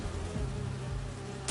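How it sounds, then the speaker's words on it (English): Holographic bee wolves from the Spider-Man 2 video game give a steady, close insect-like buzz with a low droning hum that holds without a break. "Do you see those little holographic bee wolves?"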